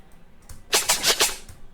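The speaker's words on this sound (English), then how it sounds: "So here is what a scratch sounds like." A quick burst of scratch effects for a pop chorus, a few short, bright rhythmic strokes after a faint lead-in.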